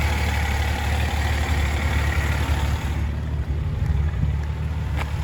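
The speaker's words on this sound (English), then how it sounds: "Picture of the engine running." A rebuilt, Weber-carbureted engine in a 1973 Datsun 240Z idles with a steady low rumble, close by and constant, with no talking over it.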